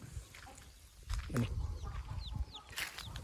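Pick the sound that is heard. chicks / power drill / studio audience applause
chicks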